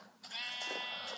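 Minecraft sheep bleating in the video game, a single clear, fairly soft digital bleat that starts after a brief quiet moment.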